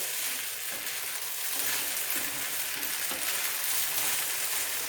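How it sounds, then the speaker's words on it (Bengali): Sabu (sago) pulao stirred with a spatula in a pan, a steady close sizzle and frying hiss running throughout with soft scraping strokes beneath, no talk. "আবার ঢাকা তুলে খুন্তি দিয়ে নাড়াচাড়া করতে হবে, তা না হলে সাবুটা কিন্তু তলাতে ধরে যাবে"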